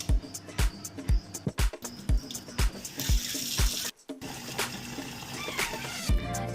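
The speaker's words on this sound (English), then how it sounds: "then we're going to fill it up with some warm water and let them defrost" Warm water running from a tap into a bowl holding frozen wraps for feeding an American alligator, a steady splashing flow broken by repeated sharp knocks and clatters, close and fairly loud.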